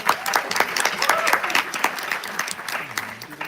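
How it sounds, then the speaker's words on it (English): An audience at a live event breaks into applause, brisk clapping with some cheering, while voices talk over the top of it. "a round of applause for her one more time"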